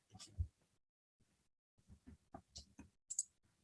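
A few soft, sharp mouse clicks sound close and quiet, scattered among brief gaps and faint low murmurs.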